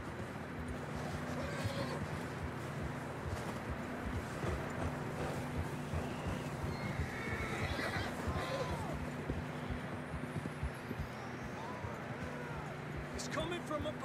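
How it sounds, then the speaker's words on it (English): Horses neigh and whinny while hooves clip-clop steadily through a dense in-game soundscape from Red Dead Redemption 2, with voices mixed in and the sound continuous and fairly close throughout. "I don't think we can go much further on the horses."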